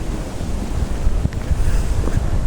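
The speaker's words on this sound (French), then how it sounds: "il y a des moments où il y a un peu des rafales de vent" Strong gusts of wind buffet the microphone, a loud rumbling roar that swells and surges unevenly, with no voices.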